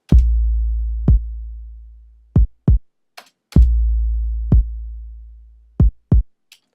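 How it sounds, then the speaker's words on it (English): A layered kick drum and 808 bass hit in a sparse pattern, each deep boom sustaining with a long decaying tail, punctuated by short sharp kick accents and a brief high click, no voices. "I'll show you how the kick and the 808 work together."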